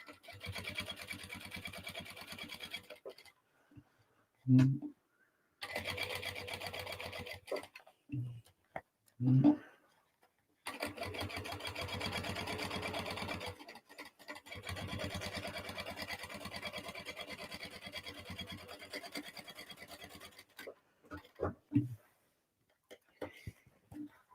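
A domestic sewing machine stitching a crossbody bag runs in several loud, steady bursts of a few seconds each, separated by pauses with brief clunks of handling.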